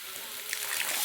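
Kaveri river water pours into a pot of tempered fish curry, a close, steady splashing hiss that swells slightly over a brief moment.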